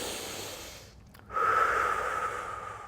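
Slow, close breathing during a prenatal yoga flow: a soft airy breath fades to a short pause, then a long, steady, hissing exhale follows.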